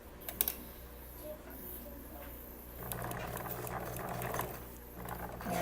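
A sewing machine stitching a Halloween candy tote bag runs in a faint, low whirring patter that rises in a longer burst partway through, with room noise around it.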